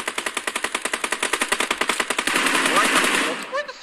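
Rapid automatic machine gun fire in the battle royale game PUBG, a long burst of loud, evenly spaced shots that merges into a sustained roar before a few faint trailing sounds.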